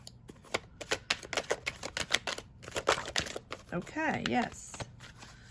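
Tarot cards being shuffled by hand in a series of quick crisp riffling snaps and slides, with a short stretch of speech breaking in partway through.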